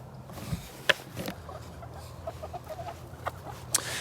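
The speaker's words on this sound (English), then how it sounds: "I'd like to introduce you to a chicken called Fighter" A hen named Fighter clucks on a homestead in December, sounding a few short, sharp clucks spread across a quiet barnyard background, fairly close, with no talking.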